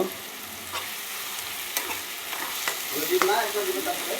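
Onions sizzle and fry in a pan for egg bhujia, a steady close hiss with faint scrapes and light stirring clicks throughout.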